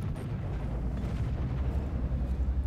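Tank cannon fire in the World of Tanks video game: a dense, rumbling low boom that rolls on continuously with heavy bass and no clear separate blasts, loud and close.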